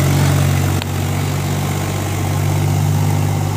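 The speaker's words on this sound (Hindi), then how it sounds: "तो उसको आप देख रहे हो किस तरह ट्रैक्टर जा रहा" A stuck tractor's engine labours hard to pull free, a loud, steady low-pitched drone that holds throughout with one brief dip in the middle and no talking.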